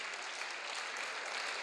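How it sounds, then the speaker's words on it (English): Steady applause from a crowd at a middle school Veterans Day assembly, even and sustained throughout, fairly distant and soft. "we'll give them one final round of applause"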